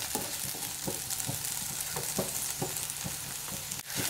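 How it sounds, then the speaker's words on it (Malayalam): Lady's finger (okra) frying in a pan, a constant loud sizzle with rhythmic scraping strokes of a spatula roughly every half second, close and with no talk. "ഇടയ്ക്ക് ഇളക്കി കൊടുക്കുക."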